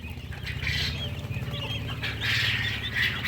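Caged quails cluck and squawk in a noisy farm enclosure, with wings flapping and a steady mechanical hum underneath.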